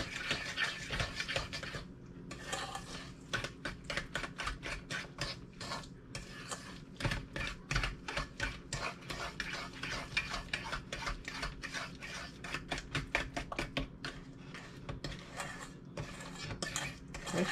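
Carrot cake batter being mixed by hand in a bowl, with a long run of rapid, rhythmic scraping and clinking strokes of the utensil against the bowl, close and fairly quiet, with no talk.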